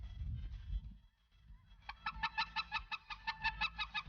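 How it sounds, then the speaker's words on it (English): A flock of geese and ducks flies in during a duck hunt, a rapid run of loud, evenly spaced honks following a few seconds of low wind rumble, fairly close with no talking. "Here comes the ducks and the geese"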